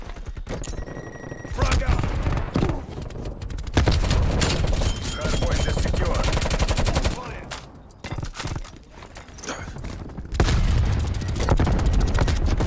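Gunfire in Call of Duty: Black Ops Cold War during a Hardpoint match, dense rapid automatic bursts and loud game shots filling most of the clip, with a player's voice talking over the action.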